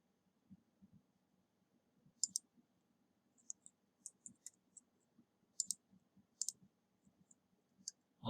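Computer mouse clicking, a series of sharp, faint single and double clicks spread irregularly over a quiet low hum.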